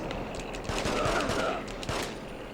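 Gunfire in the PS2 game The Getaway, set in London's East End: a dense, steady fusillade of rapid shots rattles on for the whole stretch, loud and close, with no talk over it.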